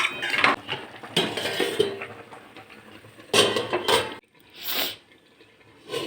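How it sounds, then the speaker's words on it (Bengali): Chutney in a pan with a cup of water and sugar, stirred with a utensil: bursts of metallic scraping and clinking against the pan, close and fairly loud, broken by short pauses. "জল দিয়ে আমি এখন এটাকে ভালো করে নাড়াচাড়া করে একটু সময় ঢেকে দেব।"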